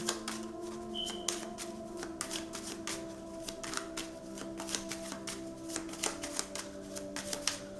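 Playing cards are shuffled and drawn from a deck in quick, crisp riffles and snaps, a rapid close-up flurry that runs throughout beneath a low steady background hum.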